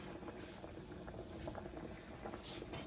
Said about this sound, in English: See how they're boiling?